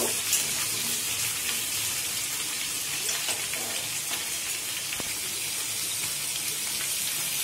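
Vegetables frying in a pan for khichuri, a dense continuous hiss of sizzling oil, steady and close with no break.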